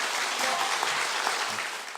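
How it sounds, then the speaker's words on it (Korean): An audience in a lecture hall applauds after a talk on constitutional law, a full, steady round of close clapping that tapers slightly at the end. "여러분 다시 한번 큰 박수 부탁드리겠습니다"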